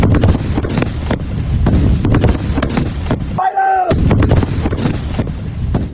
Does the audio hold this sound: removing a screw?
no